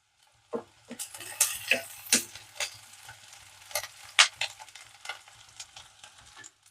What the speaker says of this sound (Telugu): మీడియం ఫ్లేమ్లో పెట్టి ఆనియన్ వేపుకుందాం